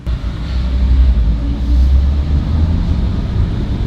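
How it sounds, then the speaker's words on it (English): A car engine rumbles with a deep, throaty low growl, steady and close. "That car sounds so good."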